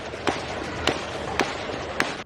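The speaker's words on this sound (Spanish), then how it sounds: "Vean los disparos." Four gunshots ring out at roughly even intervals, sharp cracks, distant and fairly faint over a steady background hiss.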